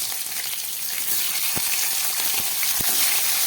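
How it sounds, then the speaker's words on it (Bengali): Pieces of pond crab fry in hot oil, a steady loud sizzle and crackle, with a few soft knocks from the pan or utensil standing out briefly against the hiss. "এই তেলের মধ্যেই আমি এবার এই কাঁকড়ার টুকরোগুলোকে ভেজে নিচ্ছি।"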